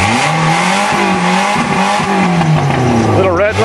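A 1994 Volkswagen Jetta, built in Mexico, fires up and revs hard toward the red line, its engine note climbing and falling in loud, close surges, with a voice over the engine.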